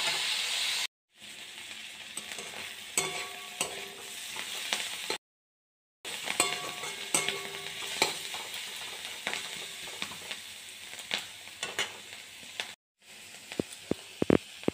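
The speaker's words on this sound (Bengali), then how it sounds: "সাদা তেল দিয়ে গাজর, পেঁয়াজ, কাঁচা লঙ্কা, বাঁধাকপিটা ভেজে নিচ্ছি।" Carrot, onion, green chilli and cabbage fry in white oil in a pan, giving a soft steady sizzle with scattered light clinks and stirring scrapes, broken by a few brief silent gaps.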